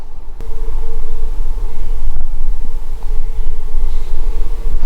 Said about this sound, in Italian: Il rumore che sentite sottofondo deve essere una macchina, comunque più che una macchina forse una motocicletta